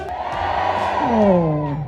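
A political rally crowd cheers and shouts loudly for candidate number two at a by-election campaign event in Kanchanaburi, Thailand, a sustained swell of massed voices with a rising whooping cry carrying over the noise.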